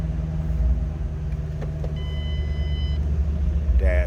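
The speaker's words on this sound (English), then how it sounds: "These have a nice throaty exhaust. A little rumble coming out of that 500 horse engine." A 2007 Ford Mustang Shelby GT500 convertible with a 500-horsepower engine idles with a deep, throaty exhaust rumble, steady and close throughout, with a faint high tone briefly in the middle.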